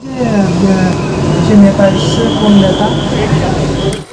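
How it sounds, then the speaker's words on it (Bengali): An air-conditioned Sealdah–Ranaghat local train runs near Kanchrapara in suburban Kolkata with a steady close rumble and layered whining motor tones that rise and fall throughout, carrying on without a break. "পঁয়তাল্লিশ কিলোমিটার কভার করে আমাদের ট্রেন এসে পৌঁছালো কাঁচরাপাড়া"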